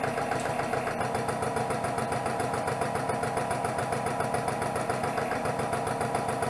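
Lanaform skin-firming suction device running at maximum speed, a steady motorized buzzing hum with rapid regular pulsing, constant and close throughout with no talk.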